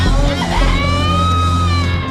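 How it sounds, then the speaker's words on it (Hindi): Voices in a crowded church prayer tent yell and wail together, a loud continuous wash of overlapping shouts and cries close by, with no pauses over the short stretch. "प्रार्थना खत्म होते ही पंडाल में चीख पुकार मच गई।"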